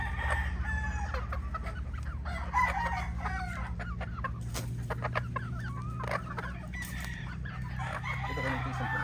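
Young pullets, five to seven months old, cluck in a farm flock. A rooster crows among them and clucks keep coming throughout, with faint talk underneath.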